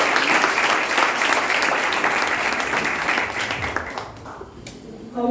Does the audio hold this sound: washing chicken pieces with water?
no